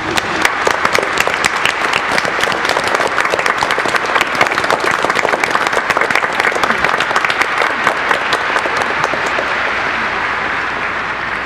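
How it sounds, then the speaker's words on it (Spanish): Congregation at a Catholic Mass breaking into sustained, dense applause, steady and loud throughout with a slight fade toward the end, no voices standing out. "Les damos un aplauso."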